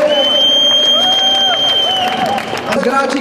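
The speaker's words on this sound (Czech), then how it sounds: "Obrovský potlesk pro hráče týmu Esuby." A large crowd at a Counter-Strike 1.6 tournament at WGT 2009 cheers, whistles and claps for the winning team, a dense, loud roar with a commentator's voice running over it.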